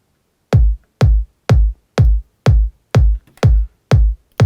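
A deep, punchy electronic kick drum in a dance-pop production hits alone eight times at an even, steady pace, each thump short and booming with a quick decay and clean silence between hits.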